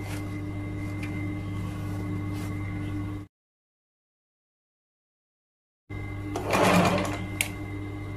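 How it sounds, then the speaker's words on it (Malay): Sewing machine stitching baju melayu trousers, a steady close mechanical whir for about three seconds, then a pause of silence, then the motor running again with a brief louder burst of stitching. "Bila kita jahit ni, kita kena tarik getah tu."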